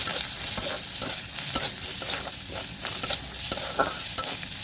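Onion with salt and turmeric frying in a pan, a steady close sizzle with intermittent scraping and stirring clicks throughout, no voices.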